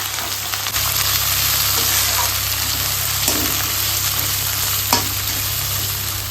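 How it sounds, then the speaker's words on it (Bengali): Onions and potatoes frying in a pan with whole spices such as cumin, giving a steady, close sizzle with faint stirring scrapes and a low hum underneath, without any talk. "পেঁয়াজ ধর একটু ভাজা হচ্ছে"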